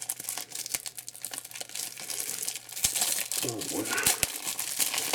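Plastic packaging from a three-layer face mask sewing kit made from meltblown fabric crinkles and crackles as it is pulled open, close and continuous, while a person speaks over it.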